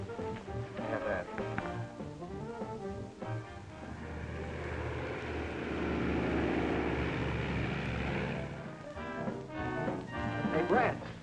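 A propeller airplane drones overhead, swelling to a loud roar midway as it passes and then fading, with people talking before and after in a 1941 film scene.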